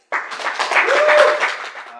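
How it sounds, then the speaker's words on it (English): A short round of applause from an audience welcoming a speaker at a talk, clapping swelling in and fading within two seconds with a brief voice over the middle. "everyone, please give a big round of applause"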